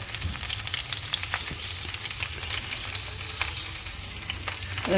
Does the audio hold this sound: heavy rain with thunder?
no